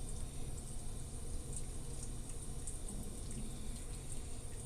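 Instant hot water runs steadily from a tap into a sink, a continuous close splashing rush with no pauses and no talk.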